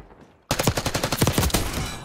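A sustained automatic weapon burst in Call of Duty erupts suddenly after a quiet moment, with loud, close, evenly spaced shots rattling rapidly and tapering off.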